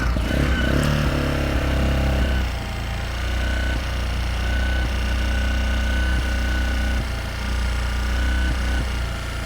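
Lachin Samasol cargo motorcycle engine idling steadily up close, a loud continuous rumble with a brief rise in revs at the start and light mechanical clatter throughout.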